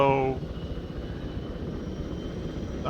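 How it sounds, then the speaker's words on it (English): Helicopters in the Arma 3 video game spool up, a low rumbling engine drone that follows a brief tonal whine and continues steadily, fairly quiet and under no clear talk. "I'm going to go ahead and get in this helicopter. So they're spooling up."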